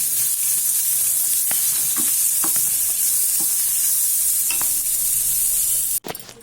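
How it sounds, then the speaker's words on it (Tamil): Cooked orange peel for a chutney is sautéed in a hot pan: a steady, close sizzle with scattered scrapes and clinks of the stirring spoon, ending in a sudden knock. "குக் பண்ணி வச்சுருக்கிற இந்த ஆரஞ்சு பழத்தோலை வந்து இதில் போட்டு நல்லா வதக்கி எல்லாம் எடுத்துக்கலாம்"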